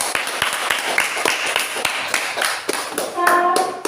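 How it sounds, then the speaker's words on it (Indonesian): Students in a classroom clap together in a burst of rapid, slightly uneven applause that carries on for several seconds, with a few faint voices mixed in near the end. "Kita kasih aplaus"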